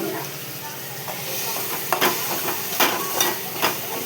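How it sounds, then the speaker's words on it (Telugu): Tomato pieces cook in a pan with a steady sizzle and simmer, broken by several sharp clicks and scrapes of a utensil stirring against the pan. "తర్వాత టమాటా ముక్కలు ఇందులో వేసుకోవాలి. ఇవి వేసుకొని కొంచెంసేపు ఉడికించుకోవాలి."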